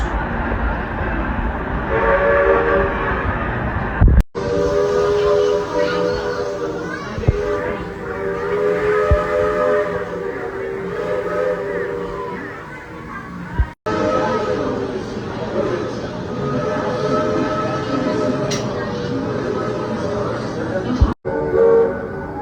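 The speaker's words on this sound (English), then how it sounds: "it was a really good day to see the train and film the train as well" A Walt Disney World Railroad steam locomotive rumbles past with a steady roar and a long sustained horn, voices and children chattering in the background nearby.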